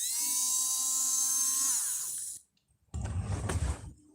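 A cheap $3 battery-powered Dremel-style rotary tool whines steadily at high pitch for about two seconds, then spins down. After a short silence comes a burst of handling noise and rattling.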